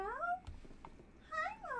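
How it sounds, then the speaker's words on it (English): Pet cat Myra gives two drawn-out, rising and falling meows, close and fairly quiet, with a short gap of faint shuffling between them in an otherwise quiet room. "Did you guys hear my kitty meow?"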